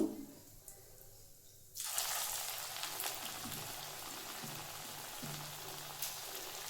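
After a quiet start, a sudden sizzle bursts out as small shrimp fritters drop into hot oil, then keeps up a soft, steady crackling.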